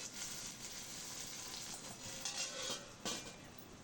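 Onion, green chilli and curry leaves fry in a pan for a broad bean and fenugreek leaf curry, making a soft, steady sizzle with a few light stirring scrapes.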